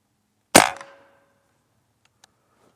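A single sharp crack from a Beeman underlever air rifle firing a pellet, close and loud with a short metallic ring trailing off, followed by quiet and a faint distant tick.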